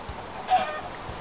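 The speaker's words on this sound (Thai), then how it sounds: "ไก่น่าจะบ่นแบบนี้นะผม" A chicken in the video game Minecraft gives a single short cluck over soft game ambience, fairly close and brief.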